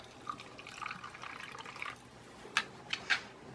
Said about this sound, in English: I do put the water in first for this